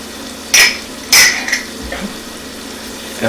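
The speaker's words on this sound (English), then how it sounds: "let's stir this around" Ginger, salt and cumin being stirred in a pot for butter chicken, two sharp metallic clanks of a spoon against the pot followed by lighter scraping, close and alone without talk.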